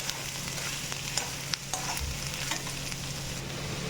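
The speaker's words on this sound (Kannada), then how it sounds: "ಸ್ವಲ್ಪ ಆಯಿಲ್ ಹಾಕ್ತಾ ಅಲ್ಲ ಸ್ವಲ್ಪ ಬ್ರೌನ್ ಕಲರ್ ಬರೋವರೆಗೂ ಹೀಗೆ ಹುರಿತಾ ಇರೋಣ" Ginger and garlic sizzle steadily in a little oil as they are fried until brown for chutney, a dense close crackle with faint occasional stirring clinks and no talking.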